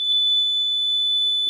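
A burglar alarm built from a FIRC electronics kit sounds as a continuous, piercing high-pitched electronic tone, loud and steady with no talk.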